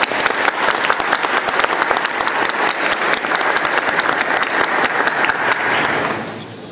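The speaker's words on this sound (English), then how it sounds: "Let's give him a round of applause." Loud, close applause from a lecture audience, many hands clapping in a dense burst with a few sharp individual claps standing out, tapering off near the end.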